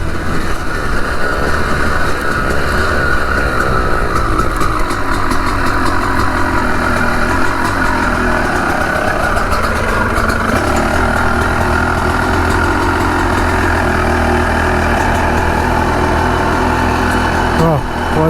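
A 250CR enduro motorcycle engine idles a little high, a steady, loud, close mechanical drone that runs without a break the whole time, with a slight shift in tone partway through.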